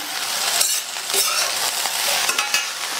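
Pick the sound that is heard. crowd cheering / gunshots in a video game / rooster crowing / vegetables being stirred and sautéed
vegetables being stirred and sautéed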